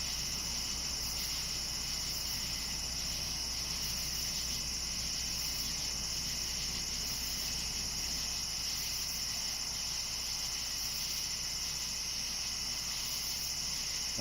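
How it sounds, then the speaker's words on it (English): Crickets and other insects chirp steadily through a night sky-watching session during an early Perseid meteor shower, a dense, continuous high-pitched trill with no pauses, close and even, with no talking. "I'm not in the mood to hear bugs and crickets and everything else."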